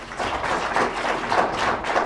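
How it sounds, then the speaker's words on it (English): Applause from a courtroom gallery full of victims after a life sentence is handed down, a dense, steady wash of clapping lasting a couple of seconds with no talk over it. "Dorow drew applause from a courtroom full of victims"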